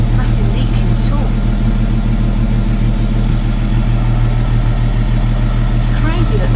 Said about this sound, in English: it's just because the muffler's new. Everything's resonating through it.